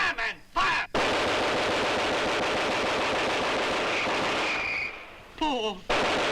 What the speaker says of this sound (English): Keep on firing!